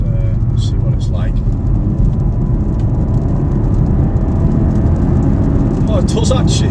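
A BMW 330e G21 four-cylinder hybrid accelerates in extra boost mode, its engine and road noise a loud, steady low drone heard from inside the cabin while a person talks over it.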